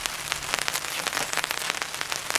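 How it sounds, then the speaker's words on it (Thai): Rain pelts down at a campsite behind a dam, a dense, close patter of drops drumming on a surface without letup. "ฝนลงมาแล้ว"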